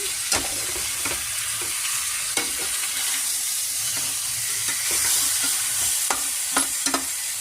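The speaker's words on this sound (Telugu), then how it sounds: "ఇందులో సిమ్లో బాగా ఫ్రై చేస్తాము" Marinated chicken fries on low heat for a chicken curry, a loud, steady sizzle and hiss broken by sharp, scattered scrapes and taps of a spoon against the pan.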